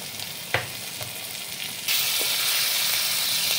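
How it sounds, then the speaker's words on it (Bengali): Mustard paste goes into fried spices in a pan for a tengra fish curry. The pan crackles with a soft sizzle and a small clack, then a louder, steady sizzle bursts up and holds. "এরপরে দিচ্ছি সর্ষে বাটা"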